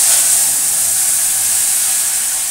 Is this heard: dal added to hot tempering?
yes